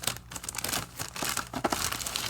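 Plastic packaging being handled as a Mezco toy figure is unboxed, giving close, continuous crinkling and rustling with small crackles throughout.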